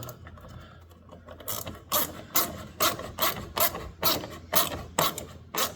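Repeated ratchet strokes tightening the upper radiator hose clamp on a 6.0 engine, about ten rhythmic rasping clicks close up, growing steadier and louder after a quieter start.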